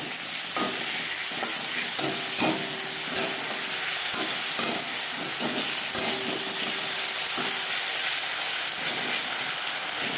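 Ginger and green chilli paste fries in hot oil in a pan for a Bengali tangra fish curry, a dense continuous sizzle and hiss broken by frequent close scrapes and clacks of a stirring spoon, with no one talking.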